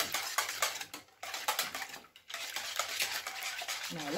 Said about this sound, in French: je mélange donc avec la crème